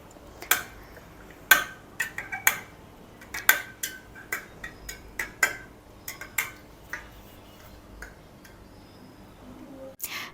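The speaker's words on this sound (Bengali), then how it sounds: "তারপর আমি এটাকে নাড়িয়ে নিচ্ছি।" A spoon stirring chia seeds in a glass of detox water, with sharp metallic clinks against the glass in an uneven rhythm for about ten seconds, close and distinct, tapering toward the end, with no talking.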